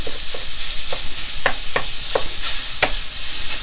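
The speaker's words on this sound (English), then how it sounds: "As it's cooking down, you want to break it apart as fine as you can." Mushroom stuffing filling cooking down in a pan while being broken apart, with a steady sizzle and a series of distinct spatula scrapes and taps, close and fairly loud.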